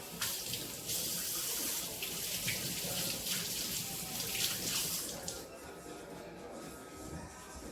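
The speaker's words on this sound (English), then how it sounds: "I have 4 big leaves. I'm gonna rinse them." Basil leaves are rinsed under a running kitchen tap, a steady close hiss of water splashing into a sink that thins and quiets near the end, with no talking.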